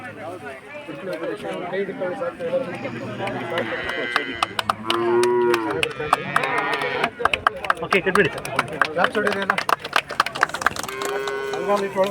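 Crossbred calves at a KMF livestock show, with repeated drawn-out moos over a busy outdoor backdrop of people talking, plus scattered sharp knocks and bumps, the calls fairly close and recurring throughout.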